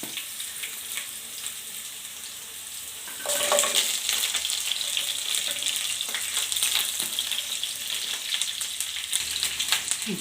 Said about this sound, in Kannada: ಫ್ರೈ ಆಗಿದ ಮೇಲೆ ಕಬಾಬ್ ಹಾಕ್ಕೋಬೇಕು.